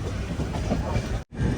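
A passenger train hauled by a WP7 locomotive rolls toward Vijayawada station, a loud close rumble of coaches and wheels heard from inside, broken by a brief sharp dropout before the steady roar resumes.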